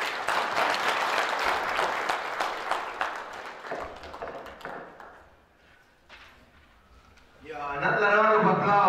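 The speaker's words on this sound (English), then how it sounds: "another round of applause" Applause from an audience at an African students' association conference: many hands clapping densely at first, thinning and dying away, then a voice begins speaking after a short lull.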